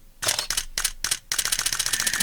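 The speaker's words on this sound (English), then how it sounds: "what I tried to do was play or time the shutter clicks here in the audio to the number of images" Camera shutter click sound effects timed to a run of still images in a photo slideshow opener, a series of sharp mechanical clicks in quick irregular bursts, then a denser rattling flurry of shutters at the end.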